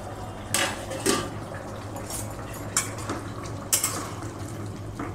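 A lid comes off a pot of simmering curry, with a handful of metallic clanks and clatters of cookware spread out over a few seconds against a faint background hiss.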